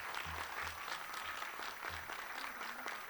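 Audience in a hall at a dance debut performance clapping steadily throughout, a dense continuous applause heard at moderate distance with no voices over it.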